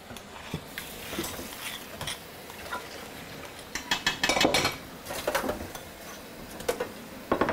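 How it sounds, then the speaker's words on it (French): Dishes and pans being washed in a kitchen, with repeated clinks and clatters of crockery and metal, some bursts louder and closer, and no talking. "Puis pendant que tu vas faire ça, Pierre, moi je vais faire un petit bout de vaisselle."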